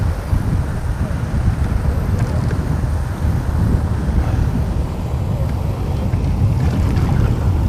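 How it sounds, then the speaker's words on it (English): A boat's trolling motor runs steadily on open water during a windy fishing outing, a continuous low rumble blended with gusty wind buffeting the microphone throughout. "I'm kind of using that trolling motor to pull us away from the jig"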